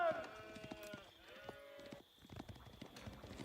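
Sheep bleating in Age of Empires IV, a few wavering animal calls early on, mixed with other livestock sounds and game noise at low level.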